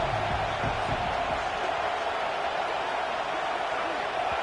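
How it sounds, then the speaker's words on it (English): A packed stadium crowd roars at a Michigan football game against Texas, a dense, steady wall of noise that never lets up, with a voice briefly audible near the start. "And with this place rocking, the crowd forces a false start."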